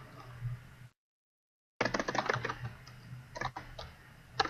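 Code is typed on a computer keyboard in quick bursts of keystrokes, with a brief dead-silent gap before the clattering resumes, followed by a few scattered taps.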